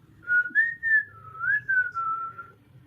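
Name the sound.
a man whistling while walking in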